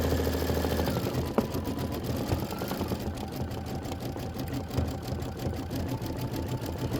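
A Kimberbell embroidery machine stitches a snow bird's beak, a close, steady, fast rhythmic needle chatter with a mechanical hum running continuously and evenly throughout, with no talking.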